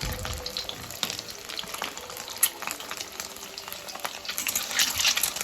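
Eggs sizzling in hot oil in a pan, a dense continuous crackle and hiss close up that swells slightly toward the end, with no talk.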